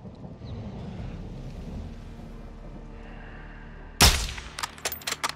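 Rifle shot in Call of Duty Modern Warfare II, a single sharp loud crack late in the stretch after quiet ambient rumble, followed by a short echoing tail and a few fainter clicks.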